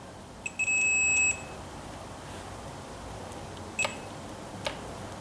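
A multimeter's continuity tester beeps while someone works on the wiring of a Ford 800 tractor: one long, steady high tone, then a short second beep a few seconds later, both clear over a quiet background.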